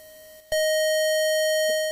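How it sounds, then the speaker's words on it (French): A faulty SID sound chip in a Commodore 64 holds one stuck tone, a loud, steady buzzing note that cuts in abruptly after a brief faint hum and keeps droning unchanged. "Il y a comme une note qui reste collée"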